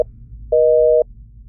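A telephone disconnect tone after a call is hung up: a loud, steady electronic beep, one brief pulse at the start then a single half-second tone, with quiet line hiss between and no talking.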